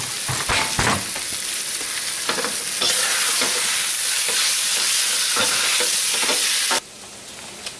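Beef frying in a pot for stew, a steady loud sizzle with bursts of crackling and occasional stirring scrapes, continuous throughout with no talk.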